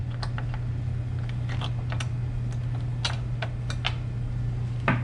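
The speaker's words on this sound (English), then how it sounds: "First step, flathead screwdriver, quarter turn bolt." Light clicks and ticks of a flathead screwdriver working a quarter-turn fairing bolt on a 2005 Honda CBR600RR sportbike, a scattered series of small sharp taps over a steady low hum, close and fairly quiet.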